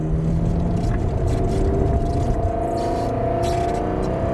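A Ferrari 430 engine pulling hard on a circuit, loud and continuous, a dense low roar with steadily rising pitch as it accelerates, heard close and alone.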